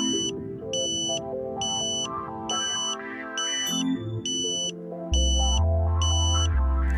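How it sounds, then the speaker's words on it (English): Regular, evenly spaced electronic beeps from a Ka-Sat satellite dish signal meter's locking tone repeat about twice a second, loud and clear over a layered tonal background hum. "You then hear the locking tone."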